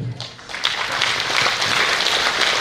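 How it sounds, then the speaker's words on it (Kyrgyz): Sustained applause from a large audience at a Mothers' Day celebration honouring hero mothers, a dense steady patter of many hands clapping throughout with faint voices mixed in. "Бул кол чабуулар бардыгы сиздер үчүн."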